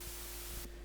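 Serum synth patch of bright white noise played dry without amp or EQ, a brief steady static hiss with a faint hum, which drops in its upper range near the end, alone.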